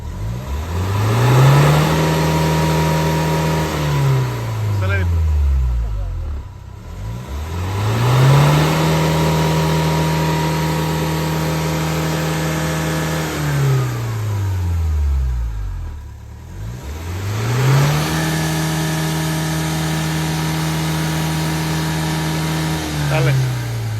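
A Mahindra XUV500 W10 engine, freshly decarbonized, is revved three times, each rev climbing smoothly, holding, then dropping back toward idle, loud and close.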